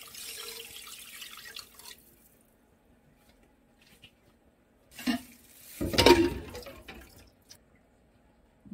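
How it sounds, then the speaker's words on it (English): A brief gush of water used to wash rice pouring into a pot, preceded by a fainter trickle and a short splash, with quiet gaps in between. "Put the rice water"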